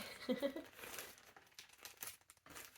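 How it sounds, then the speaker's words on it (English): A Ziploc plastic bag holding a skein of yarn crinkles close by in short, soft rustling bursts, quiet and intermittent, with a brief faint voice near the start. "It's in a Ziploc bag."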